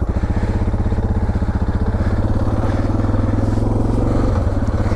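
A 326-pound Suzuki DR motorcycle stuck off road idles and revs with a loud, close, steady thumping engine pulse and a slight dip near the end.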